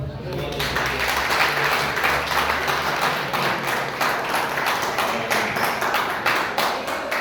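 Church congregation applauding at an evening worship service, a dense steady wash of many hands clapping that carries on for several seconds at a moderate level.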